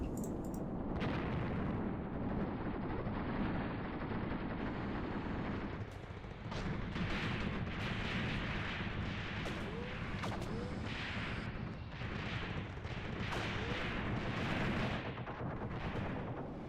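Rocket launcher jeeps fire on APCs in the Graviteam Tactics: Mius Front combat game. Repeated sharp blasts and booming impacts burst over a constant rumbling battle din, sometimes in quick clusters.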